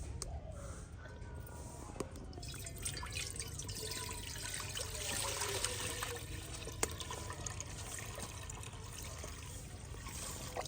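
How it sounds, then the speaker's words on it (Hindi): Water is poured into a cooking pot for a village-style desi chicken soup, a faint steady trickling hiss that runs throughout with a couple of small clinks. "तो सबसे पहले इसमें पानी डालेंगे।"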